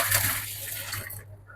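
Water gushes into a pot of chicken feet being prepared for a mung bean dish, a steady loud pour lasting about a second before cutting off abruptly.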